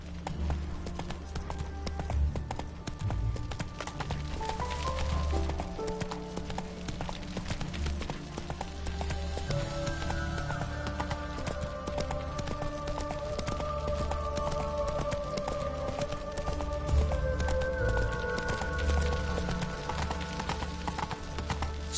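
A horse gallops with steady, rapid hoofbeats in the video game The Witcher 3, with layered game music and ambience running continuously underneath.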